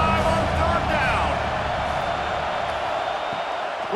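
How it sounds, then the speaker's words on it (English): A stadium crowd of Buckeye fans at Ohio State roars on third down in College Football 26, a thick, continuous din that stays loud for the whole stretch. "The Buckeye crowd alive on third down."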